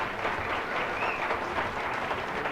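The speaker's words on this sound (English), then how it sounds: "You don't have to applaud." An audience at a live bluegrass concert applauds, a dense, even wash of clapping held at moderate loudness for the whole stretch, with no talk over it.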